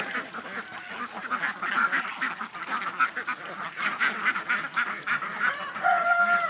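A group of ducks quacking nearby, loud overlapping calls that carry on without pause.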